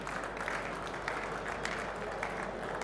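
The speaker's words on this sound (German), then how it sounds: "einen herzlichen Applaus" Audience applause at a logistics talk on a trade-fair stage, steady dense clapping from a crowd throughout, moderately quiet and somewhat distant, no talking over it.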